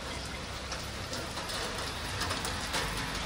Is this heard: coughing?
no